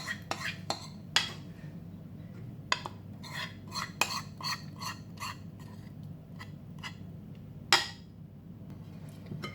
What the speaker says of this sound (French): Je mélange bien ma pâte.